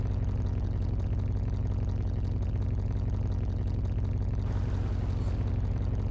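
A rough, crunchy exhaust rumbles steadily on a freshly repaired car in Car Mechanic Simulator 2021, a continuous low engine drone at moderate level with no talk, a brief hiss layering in near the end.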